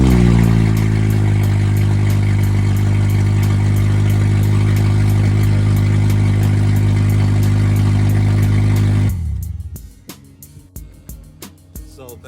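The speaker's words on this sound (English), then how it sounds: "if you don't know what it sounds like when your catalytic converter is stolen, let me give you an example of what it sounds like." Honda car engine running with its catalytic converter stolen, a loud, raw, steady droning rumble for about nine seconds, then cut off, leaving faint scattered clicks and knocks.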